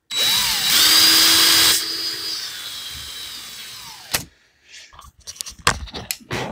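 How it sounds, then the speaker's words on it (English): A power drill whirs steadily and loudly for several seconds at a workbench while a swivel is straightened, then winds down and stops, leaving scattered clicks and clatter of handling. "Get my swivel straightened out with my drill."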